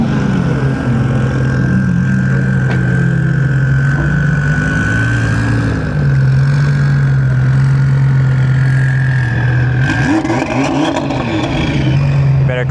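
A Porsche GT4 RS engine drones loudly through its exhaust while driving, a steady close rumble with shifts in pitch and a rising rev near the end, with people talking inside the car.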